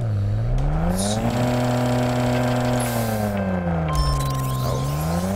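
Nissan Skyline R32 engine in the Racing Rivals video game, revving steadily with a rising and falling pitch, loud and continuous with no talking.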